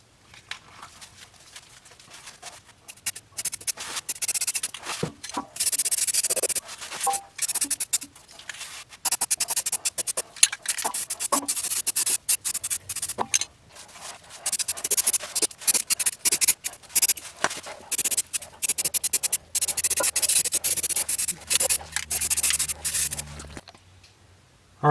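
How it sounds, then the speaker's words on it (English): Aerosol rust reformer sprayed onto a wire-brushed rusty area of a neglected Honda CR-V, heard as long bursts of close, hissing spray broken by short pauses, with no talking. "Now I'm going to hit it with the rust reformer."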